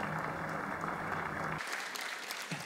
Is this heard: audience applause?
yes